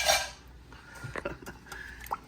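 Coconut milk chicken curry, East African kuku paka, being stirred in a pot: a few soft clinks and wet liquid sloshes, with a louder scrape at the start, close and fairly quiet.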